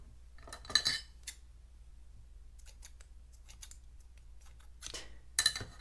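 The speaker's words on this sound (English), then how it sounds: "The scissors are so dull." Dull scissors cut through craft paper at a table, with a couple of crisp snipping bursts near the start and again at the end, separated by quiet rustling and a low steady hum.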